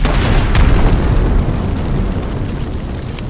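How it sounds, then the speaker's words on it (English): A prison explodes in a radio drama sound effect: a loud, sustained booming blast with a rumbling roar that slowly fades over a few seconds, with no voices. "Suddenly, the prison behind them explodes."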